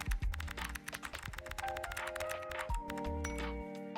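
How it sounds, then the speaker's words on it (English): Close, rapid typing on a computer keyboard, a steady run of crisp small clacks with faint background tones and no voices. "Oh, the little clacks in my ear."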